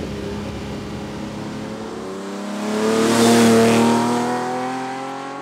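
A classic Ferrari V12 road car engine revs up and down, its pitch climbing and falling as it swells loudly and then fades slightly, with no voices.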